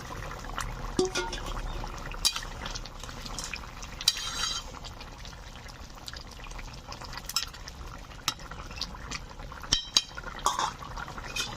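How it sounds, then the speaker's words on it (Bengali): Rohu fish curry gravy with pumpkin bubbling in a pan, a steady low simmer with soft crackles and occasional clinks, fairly quiet throughout. "ঝোল ফুটতে শুরু করে দিয়েছে।"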